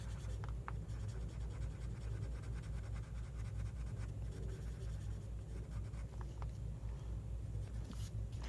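Steady soft scratching of a blender colored pencil on paper, continuous and close, with faint back-and-forth strokes and no talking.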